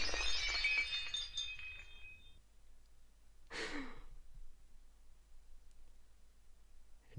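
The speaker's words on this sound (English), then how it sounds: "Something just shattered." In a video game, after a fading noisy wash, a single brief burst of shattering glass rings out, then quiet ambience with a faint low hum.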